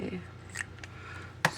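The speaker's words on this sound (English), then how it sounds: "Put my scissors away." A pair of scissors is put away on a craft desk: faint small clicks and taps over a quiet room hum, ending in one sharp, close clack.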